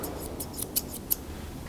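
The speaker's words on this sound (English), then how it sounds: "just scissoring off anything that the clippers have missed" Grooming scissors snipping fur around a dog's feet, a quick run of small, close, crisp snips with two sharper cuts, quiet background and no talk.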